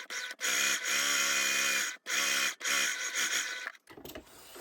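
Sewing machine back stitching the start of a seam on a padded sleeve, giving a close, steady mechanical whir in three runs with brief stops between, ending in a short softer clatter.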